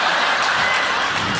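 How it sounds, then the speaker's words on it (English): Dense audience clapping carries on steadily and fairly loud for a brief stretch, with no other sounds breaking through. "all I hear is clapping"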